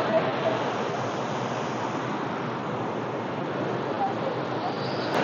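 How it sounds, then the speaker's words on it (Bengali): Water from a waterfall at Athirappilly pours down and rushes away below, a steady, loud broadband roar close by that continues without a break. "এই ঝর্ণাটা এখান দিয়ে পড়ে নিচে বেরিয়ে যাচ্ছে"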